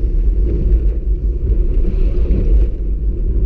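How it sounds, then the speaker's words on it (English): Engine of a 1992 Citroen ZX 1.4i while driving, heard as a continuous low rumble with road noise, close and fairly loud throughout with no talk. "put on first gear, yeah, and let's rev it"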